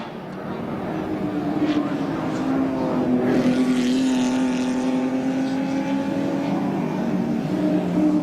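Two dealer-team touring cars from the 1984 Bathurst 1000 run nose to tail up Mountain Straight, a sustained engine drone that rises steadily in pitch and holds loud and close, with faint commentary underneath.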